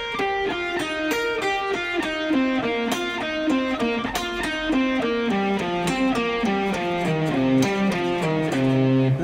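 A distorted electric guitar plays a fast descending pentatonic run in C, with steady even notes stepping downward without pause and resolving low at the end.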